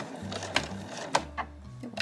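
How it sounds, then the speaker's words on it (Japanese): A sewing machine backstitching on a handmade granny bag, heard as a close, steady mechanical whir with a low hum and a few louder clacks of the needle mechanism, running alone without speech. "そしたら返し縫いをします。"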